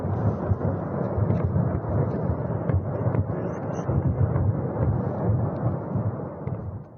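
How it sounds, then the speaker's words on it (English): Ammunition cooking off at a destroyed depot near the shore of Lake Kudinskaya, heard from a distance as a continuous deep, rumbling roar with dull thuds, steady and loud throughout, and no voices. "capturing the sound of ammunition cooking off"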